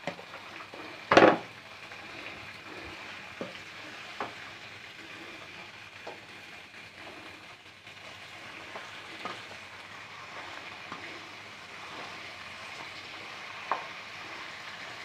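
Potatoes hit hot oil already frying cumin seeds and green chilies, with a sharp clatter at first and then a steady sizzle that continues alone, sprinkled with faint pops and utensil taps.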